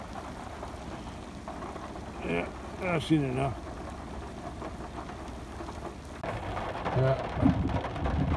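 Steady rain falling outdoors over a rural road and pasture on a flooded rainy day, a constant hiss beneath a man's brief speech, growing a bit heavier toward the end.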